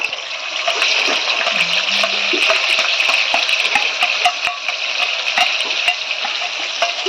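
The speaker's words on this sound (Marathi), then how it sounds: "आता तेलामध्ये आपण पेस्ट पडायची." Spice paste dropped into hot oil while cooking a spicy vamti fish curry, giving a steady, close sizzling hiss with crackles and pops throughout, no talking.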